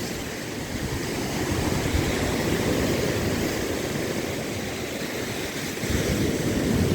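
Strong waves and current crash continuously against the shore at Mauban, Quezon, a loud, steady roaring surf with swells of intensity and wind noise, no talk.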